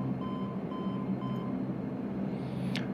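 A takeoff warning test in a Majestic Q400 flight simulator cockpit sounds as three evenly spaced electronic beeps over a steady engine and cabin hum, followed by a brief rising electronic tone.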